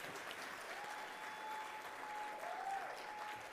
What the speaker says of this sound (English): just give a round of applause to all the staff who worked so hard behind the scenes to make this happen.